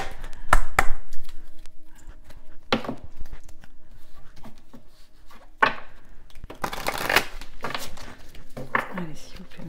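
Oracle cards shuffled by hand in short, close bursts of riffling and flapping between pauses. A voice speaks in French around the bursts.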